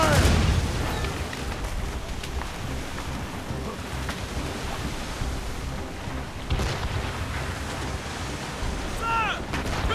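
Ship cannons firing in the Assassin's Creed Rogue video game, heavy booms at the start and again midway over a constant wash of sea and wind noise, with shouted voices at times.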